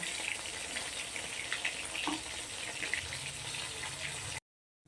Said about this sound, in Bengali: উল্টে আমি ভেজে নেব